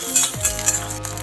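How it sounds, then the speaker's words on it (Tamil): Small onions fry in hot oil for a mutton curry, a bright crackling sizzle with a low pan hum underneath and brief stirring clatter, close and steady across the short moment. "சின்ன வெங்காயம் கொஞ்சம் ஃப்ரை ஆகும்."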